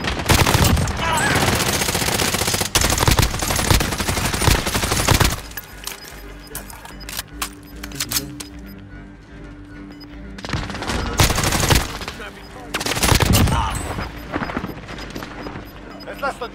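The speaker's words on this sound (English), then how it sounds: "I'm taking fire!" Loud Call of Duty: Modern Warfare gunfire, heavy rattling bursts for the first few seconds, then scattered single shots and quieter action before another intense volley near the end, with voices talking over parts of it.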